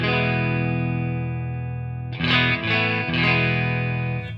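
Electric guitar running through a Mesa Boogie Mark IIC+ amp model with the bright switch on: a sustained bright chord rings out, then several fresh strums follow in quick succession, loud and up front with no voices.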